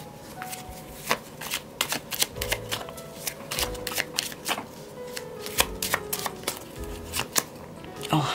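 Tarot cards are shuffled close by in a rapid flurry of crisp riffling slaps and taps, irregular bursts running on under quiet talk.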